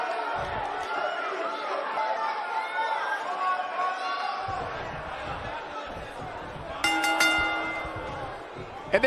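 In the WWE 2K19 wrestling video game, a ring bell clangs in a quick burst of several bright strikes before a sold-out arena crowd, with commentators talking and crowd chatter throughout.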